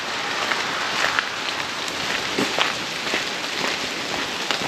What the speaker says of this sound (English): It is raining this morning,